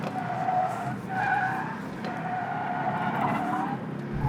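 A 2019 Genesis G70 with the 2-liter turbo engine and manual gearbox is driven hard around an autocross course. Its tires squeal almost without a break in wavering tones over a continuous engine rumble, heard up close.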